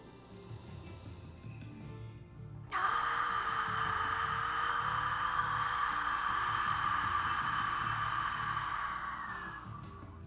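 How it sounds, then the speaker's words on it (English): Ujjayi pranayama yoga breath drawn through the nostrils with lips closed, a steady hissing, ocean-like rush that starts abruptly and holds evenly for several seconds before easing off, close and fairly loud. "if you do that with lips closed and breathe only through the nostrils, you will create the sound of Ujjayi"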